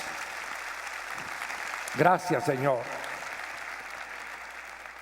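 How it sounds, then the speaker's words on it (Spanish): A church congregation claps steadily and evenly throughout, and a voice briefly speaks over the applause midway before it carries on. "Démosle un fuerte aplauso, digámosle gracias."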